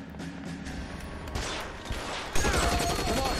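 Tommy gun bursts fire in the video game L.A. Noire, a rapid, dense fusillade of shots that grows louder and fuller in the final second, with no one talking.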